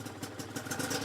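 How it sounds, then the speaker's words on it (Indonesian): Honda NSR 150 RR two-stroke 150cc motorcycle running on its standard exhaust, a smooth, fairly quiet close engine note with steady rapid pulsing, idling or lightly revved for about a second. "Karena menggunakan knalpot standar, jadi ya bunyinya cukup halus"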